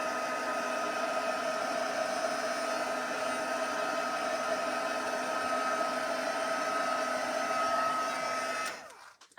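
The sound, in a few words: heat tool drying watercolor on heat embossed image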